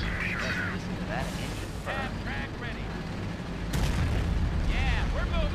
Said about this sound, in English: They keep carpet bombing